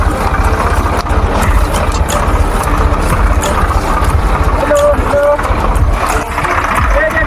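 A tractor engine runs close by with a steady, loud low chugging drone, continuous for the whole stretch, while people talk over it.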